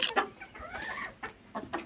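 Chickens cluck in short, close bursts, several quick calls in a row separated by brief pauses, with no talk over them.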